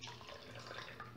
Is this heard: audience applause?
no